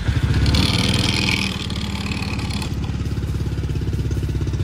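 A 2023 TrailMaster Cheetah 300EX go kart engine running close by, a loud throbbing idle with rapid regular pulses, slightly louder at first and then settling to a steady chug.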